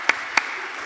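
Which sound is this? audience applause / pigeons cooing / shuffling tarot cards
audience applause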